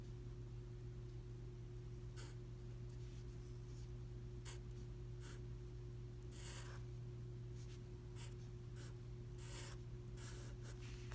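A pen scratches on paper while the Chinese character for father is written, giving short faint strokes in an irregular rhythm over a steady low electrical hum.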